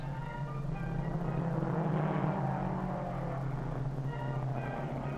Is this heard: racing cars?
yes